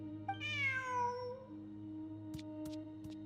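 A cartoonish cat meows once in the Zenless Zone Zero video game, a clear rising-and-falling call heard up close over a steady low background hum, followed by a few soft clicks.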